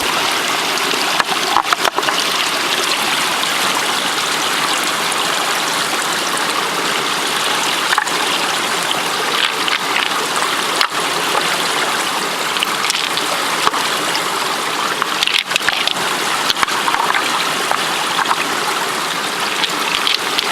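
Creek water rushing and splashing over rocks, a continuous bright babble that stays steady throughout, close by, with no voices.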